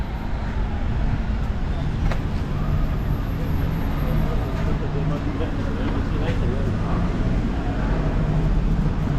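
Busy road junction in Birkirkara, Malta, with a steady, loud wash of passing traffic, engines and tyre roar filling the scene without a break.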